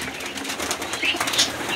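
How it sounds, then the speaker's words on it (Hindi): Pet pigeons are released from their loft, their wings flapping in soft rapid bursts that grow busier toward the end, moderately close over a quiet background hiss. "कबूतर निकालते हैं हम टोटली बाहर"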